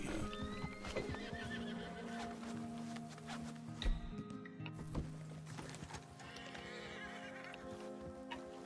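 Horse in the Red Dead Redemption 2 video game, with clip-clopping hooves, snorting and a neighing whinny over a quiet ambient soundtrack.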